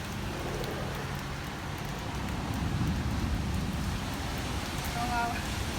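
Heavy rain at night in Nizwa, Oman, pours down in a dense, constant hiss, drumming on surfaces close by with no letup.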